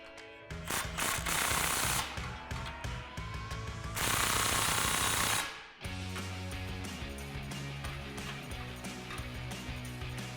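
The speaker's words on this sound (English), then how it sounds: "go ahead and start from the front again and tighten everything down for the final time." A ratchet tightens the bolts of a cat-back exhaust on a 2015-2023 Ford Mustang EcoBoost, giving loud, rapid clicking bursts that stop and start, with a long run near the middle and steadier mechanical noise afterward.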